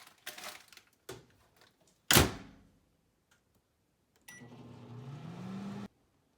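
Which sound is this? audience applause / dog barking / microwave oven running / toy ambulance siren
microwave oven running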